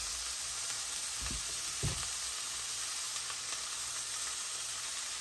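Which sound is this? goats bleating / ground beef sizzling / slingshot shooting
ground beef sizzling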